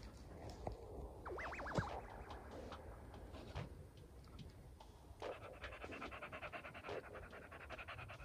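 A dog pants quickly and steadily up close, with faint rustling and a few soft knocks in the background.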